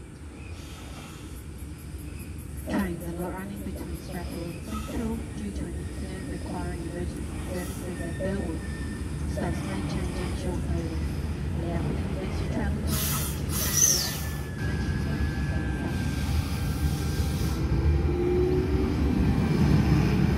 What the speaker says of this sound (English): We have a 4-car V-set arriving at Werrington and it's actually stopping today.